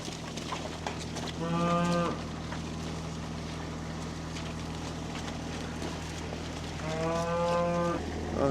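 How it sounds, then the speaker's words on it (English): Cattle moo loudly twice, near and drawn out, over a steady low engine-like hum as the cows are let in to feed at a farm pen. "now we'll see if we can get these unruly cows in here, let them eat"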